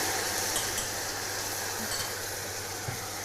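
Water splashed into a frying pan of browning onions sizzles in a steady, close hiss with faint clinks of utensils, with a low hum underneath.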